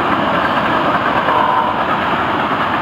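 A Florida East Coast Railway locomotive passes close by on a rock train, a loud, steady, heavy rumble and roar that fills the whole clip without a break.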